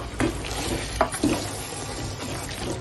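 Malvani mutton masala sautéing in a pan, a soft constant sizzle with a few scraping stirs, close and moderately loud, no speech.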